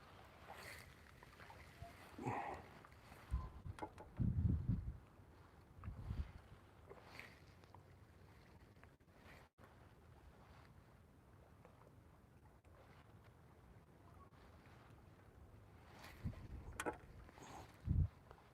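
Wind blows across a lake outdoors during fishing, a faint low rushing that buffets the microphone in occasional gusts. Soft thumps and rustles come and go close by.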